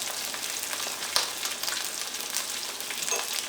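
Crushed shallots, garlic and ginger fry in coconut oil with a continuous bright sizzle up close, a small clink or stir sound near the middle.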